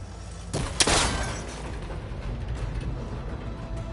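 A shot fired at a cable connector in Horizon Forbidden West: a sharp crack and impact at the start, then a rumbling, crackling break that fades into steady background noise.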